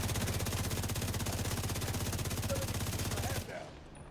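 Rapid sustained automatic gunfire from a video game, aimed at an enemy's shield, rattles loudly and evenly for about three and a half seconds before cutting off abruptly into quieter background.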